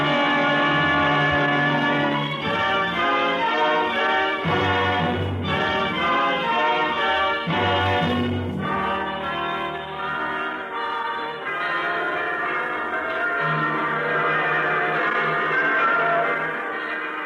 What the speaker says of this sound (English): The bells are ringing throughout the land this week.